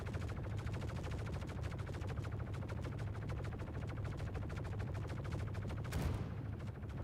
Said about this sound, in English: That's the first explosion.